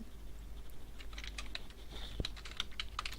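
Rapid, uneven keystrokes on a computer keyboard while code is typed during Android app development, close and fairly quiet, with a few sharper clacks and no talking.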